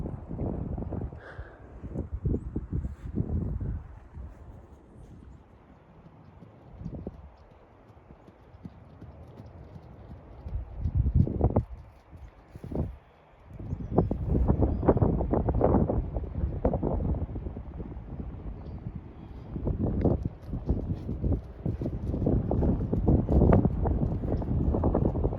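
A mare walks out in an open pasture, her hooves clip-clopping in an irregular rhythm that grows heavier and closer toward the end. Gusty wind rumbles across the microphone throughout.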